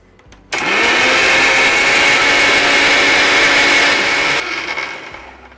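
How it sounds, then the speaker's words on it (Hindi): A blender whirs loudly and steadily for several seconds, a constant high motor drone, then winds down and fades. "सारी चीजों को अच्छे से ब्लेंडर में डालकर ब्लेंड कर लेते हैं।"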